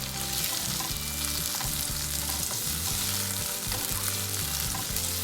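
Vegetable curry frying in a pan as ground tomato puree is stirred in, a steady close sizzle with scraping stir strokes throughout, no talking.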